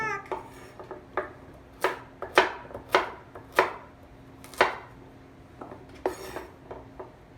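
A knife chops carrots into small rounds on a cutting board, with sharp irregular thuds coming every half second or so, close and distinct.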